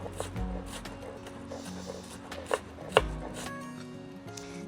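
A knife chops a red onion on a board in uneven, close strokes, with a couple of sharper, louder cuts standing out over a soft rubbing background.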